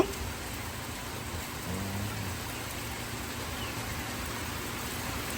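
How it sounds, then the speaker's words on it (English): Summer thunderstorm rain falls in a constant, even hiss, moderately loud and steady throughout, with no distinct thunderclaps standing out. "a summer thunderstorm."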